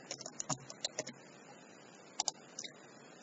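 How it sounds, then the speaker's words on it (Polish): Soft, quick clicks of a computer keyboard as an address is typed, irregular bursts of keystrokes with short pauses, faint and close with no talking. "Wpisujemy adres."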